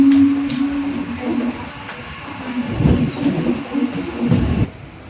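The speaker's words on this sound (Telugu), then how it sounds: "సో మన ట్రైన్ బయలుదేరిపోయింది పాలూరు నుండి" From aboard the 16112 Puducherry–Tirupati MEMU Express as it pulls out of Paluru station, a moderate steady rumble builds with a low motor hum and rhythmic rolling thumps.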